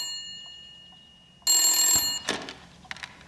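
Telephone ringing in a Hindi-dubbed movie scene, a steady electronic ring over quiet background noise, followed by short clicks and rustles.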